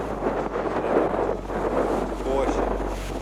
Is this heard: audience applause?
no